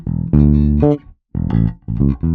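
A verse bass riff on electric bass guitar, punchy syncopated notes in two short phrases separated by a brief pause, played up close and alone.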